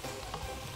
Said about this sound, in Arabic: هما بصوا كانهم بيتقلوا في الزيت شويه